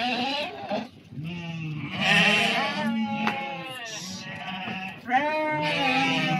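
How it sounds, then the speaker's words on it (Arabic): Rams for sale at a livestock yard bleat loudly and repeatedly, several wavering calls close by with short pauses between them. "راه حوليه كيما شفتوا"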